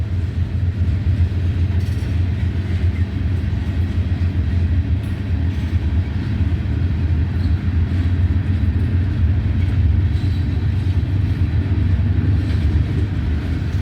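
A freight train of granite cars rolls past nearby, a loud continuous rumble with faint rhythmic clacking of wheels, steady for the whole stretch with no voices.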